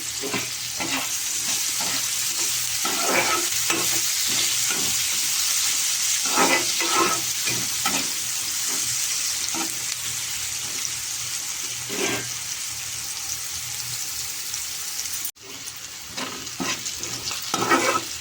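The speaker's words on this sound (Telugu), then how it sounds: "ఉల్లిపాయలు వేసాను కదా, ఉల్లిపాయలు కూడా వేగనిద్దాం." Dried fish and chopped onions fry in a pan with a steady, close sizzle, broken by frequent scraping stirs of a spoon against the pan. No one speaks.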